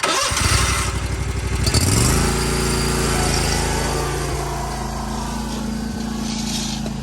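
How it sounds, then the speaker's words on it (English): A lawn mower's small gasoline engine rumbles steadily close by, revving up in the first two seconds and then holding a loud, even drone throughout. "then we'll get some of Carl mowing"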